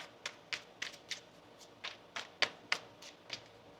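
Tarot cards are shuffled in a quiet room: about a dozen soft, crisp riffles and taps arrive in an uneven rhythm, close by and faint, with brief pauses between them.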